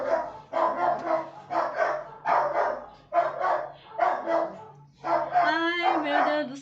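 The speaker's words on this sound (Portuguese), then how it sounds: "Meus cachorros estão latindo." Several dogs bark in repeated, evenly spaced bursts, fairly close, with a voice joining near the end.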